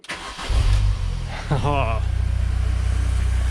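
A Mini Cooper R50 engine fitted with an R53 intake manifold cranks briefly, catches and fires up, then settles into a steady, close idle.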